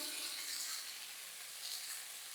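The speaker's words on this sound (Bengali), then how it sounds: "আর ফুলগুলো দিয়ে এটাকে ভালো করে নাড়তে শুরু করব।" Drumstick flowers sizzle in a hot pan as they are stirred, a steady bright hissing fry with no voices.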